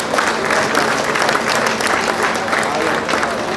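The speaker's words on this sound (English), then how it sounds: "I thought the applause would be louder than that." Audience members at a Lagos reception for President Tinubu clap continuously in a thick, steady burst, with voices mixed faintly into the applause.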